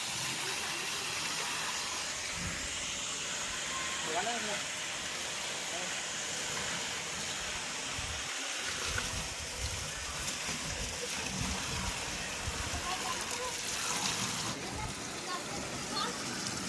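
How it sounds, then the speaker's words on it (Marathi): Continuous hissing rush of a household borewell pump running, with water gushing out to fill a tank for a guppy fish setup, steady throughout. "आता बोरिंग चालू करायचंय"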